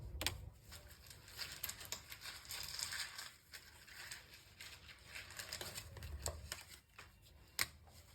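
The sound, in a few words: tarot cards being shuffled and drawn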